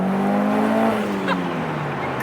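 A Mitsubishi Lancer Evo 9 with an aftermarket downpipe accelerates, its engine giving a loud, smooth, humming drone that rises steadily in pitch across the run.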